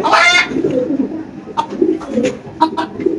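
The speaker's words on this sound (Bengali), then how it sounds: "এটা হলো একটা অ্যাঞ্জেল কবুতর না ভাই?" Pigeons at a pigeon market coo repeatedly in soft, throaty bursts, close by, following a brief loud rustle at the start, with faint chatter in the background.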